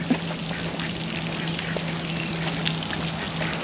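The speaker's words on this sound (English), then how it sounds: "Oh, those are just ducks." Ducks near water in New Hampshire give faint, scattered quacks over a steady outdoor background hum, heard from a short distance.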